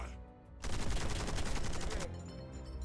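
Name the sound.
chain explosion in video game Warhammer 40,000: Warpforge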